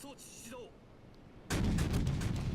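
Naval gunfire in World of Warships: after a second and a half of near quiet, a loud, heavy salvo booms in and rumbles on, dense and sustained to the end.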